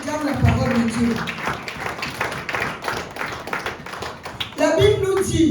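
A church congregation claps and acclaims in steady, close, busy patter, with voices mixed in and a louder swell near the end.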